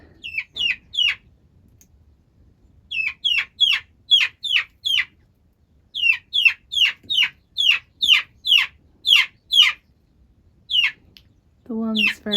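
Chickens clucking in quick bursts of sharp, repeated calls on a smallholding in Portugal, several runs separated by short pauses, fairly close, with a brief low voice at the end.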